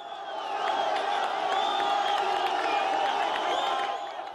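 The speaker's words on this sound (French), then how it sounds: "accompagné par les cris de joie des spectateurs venus en nombre et alors persuadés de sa survie" A large crowd of spectators gathered at a well rescue site in Morocco cheers and whoops joyfully, with a dense, sustained roar of voices and occasional whistles that holds steady throughout.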